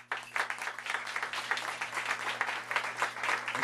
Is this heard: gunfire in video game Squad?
no